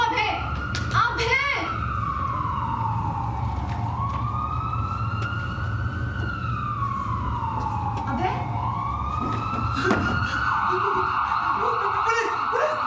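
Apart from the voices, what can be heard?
ambulance van siren passing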